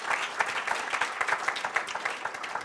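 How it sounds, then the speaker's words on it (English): Audience applauding at a policy pitch conference, a steady dense clapping from a room full of people that carries on evenly for a few seconds with no talk over it. "Let's give them a round of applause."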